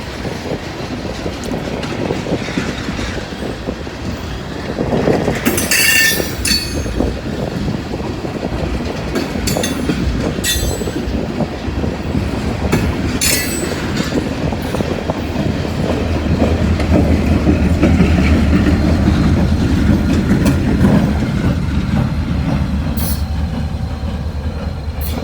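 A freight train rolls past with a DPU locomotive, a loud, steady rumble of wheels and rail clatter running throughout, with brief high squeals from the wheels and the noise swelling louder toward the end.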